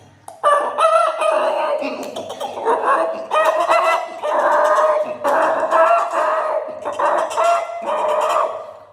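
A voice mimics a chicken with loud, close clucks and crowing cries. The pitched squawks come in repeated bursts across nine seconds, separated by short breaths.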